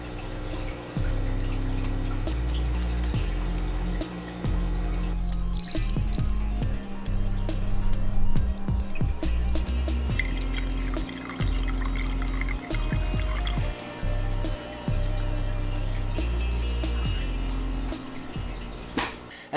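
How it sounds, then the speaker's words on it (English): Water is poured and trickles into a small glass vase being set up as a nano planted paludarium, a steady filling splash with drips and gurgles running throughout, close and fairly loud. "Let's go ahead and add some water to this and get it filled up"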